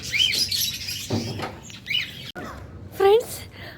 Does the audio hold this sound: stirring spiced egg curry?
no